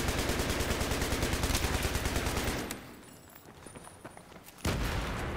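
Sustained bursts of PKP Pecheneg machine gun fire in Battlefield 3, loud and rapid, cutting off briefly before another burst resumes near the end.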